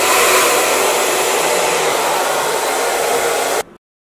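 Close, loud roar of a hair dryer drying hair, a steady airy rush running unbroken for over three seconds before switching off abruptly, with no voices over it.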